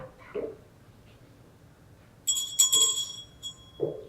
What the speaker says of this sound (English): We also ring the bell.